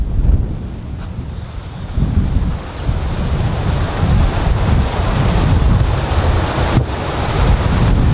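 Wind gusting across an outdoor golf course, a strong low rumble and buffeting against the microphone that swells and eases, steady and close with no talk.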